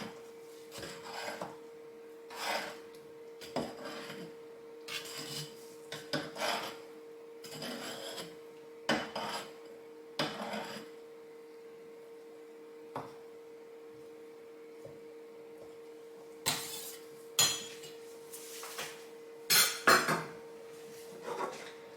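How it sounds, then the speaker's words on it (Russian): A knife slices through floating eggs in a pot of Chinese soup, with a string of sharp metallic taps and scrapes against the pot at irregular intervals over a steady low hum. "И теперь вот так вот всплывшие яйца разрезаю ножом."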